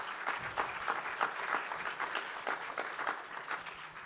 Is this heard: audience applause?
yes